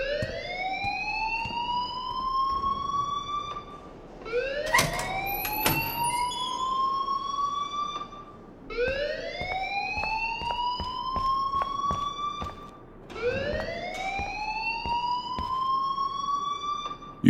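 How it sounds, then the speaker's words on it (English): A school alarm in the video game Life is Strange wails in four repeated rising sweeps, each lasting a few seconds, with clicks and brief gaps between them and no talking. "please turn off that alarm since that's your job"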